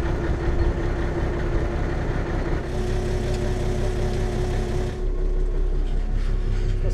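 Tractor engine rated at 185 horsepower idling, heard from outside the cab, a steady low rumble with a constant hum that shifts slightly in tone partway through.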